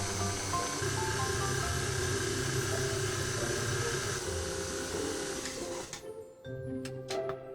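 A stand mixer runs at medium-low speed, kneading bread dough with butter for dinner rolls. Its motor hums steadily with a rhythmic labored churn, then cuts off near the end, leaving a few faint clicks.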